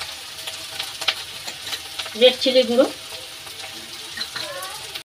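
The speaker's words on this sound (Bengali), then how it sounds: "এই মশলা একটু ভেজে নেব" Spice masala of cumin, coriander, turmeric and red chili powder sizzling in a pan, with a soft steady fry, a few louder stirring scrapes and a brief spoken remark.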